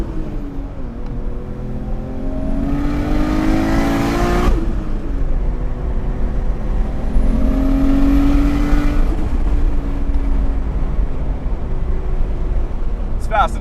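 A modified turbocharged Nissan R34 GT-R on a road accelerates hard in two loud pulls, each a rising engine note that peaks and then drops, with a deep engine rumble running underneath throughout.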